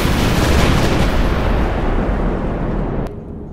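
Sustained heavy bombardment rumbles on through an artillery duel at the old Malay fortified town of Johor Lama in 1587, a dense, loud wall of booming fire that drops off abruptly near the end.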